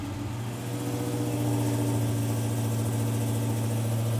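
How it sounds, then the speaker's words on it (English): A 2017 Dodge Hellcat's V8 idles steadily nearby, a deep, even rumble with a low throb that holds constant throughout, with no talking. "Let's hear this thing."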